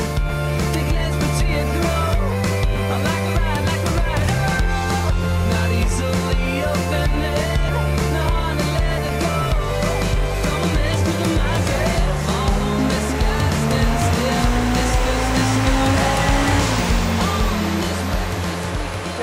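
Honda Integra DC5 fitted with a Fujitsubo exhaust on a test drive, the engine droning steadily with rising and falling revs through gear changes, a continuous loud exhaust note with road and wind noise.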